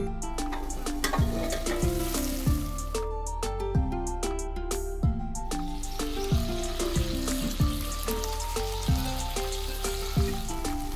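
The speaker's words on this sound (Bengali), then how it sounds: "এবারে এটাকে ঢাকা দিয়ে সেদ্ধ করে নেব আর মাঝে মাঝে ঢাকনা খুলে নেড়ে নেব" Chicken boiling in water in a covered pan, a continuous bubbling simmer with clinking and stirring knocks of a utensil against the pan, steady and close throughout.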